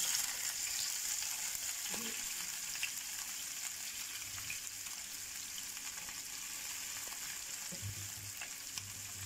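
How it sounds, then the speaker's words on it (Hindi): Bitter gourd pieces frying in hot oil in a pan, a faint steady sizzle and crackle throughout with a couple of brief stirring or splashing bursts, no talk. "हम जा रहे हैं करेले फ्राई करने।"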